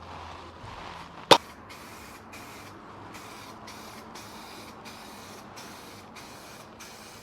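A spray gun lays paint onto a primed MGB car panel, a soft steady hiss broken by short regular pulses, quiet and close, after one sharp click near the start.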